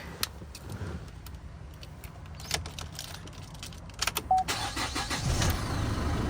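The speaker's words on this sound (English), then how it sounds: "We'll jump in, we'll start it up though." A 2020 Holden Colorado LS ute cranks and its engine starts near the end, settling into a steady idle after soft clicks, key rattles and cabin movement, with no talking.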